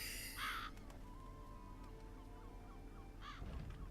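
Crows caw in The Witcher 3: Blood and Wine, with one loud harsh call at the start and another near the end. Fainter chirps and a steady background hum fill the gap between them.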